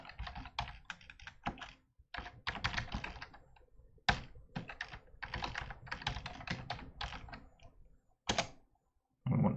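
A command being typed on a computer keyboard while setting up two-step authentication on a Debian or Raspbian system, with bursts of rapid close key clicks separated by short pauses and a louder thunk like an Enter press.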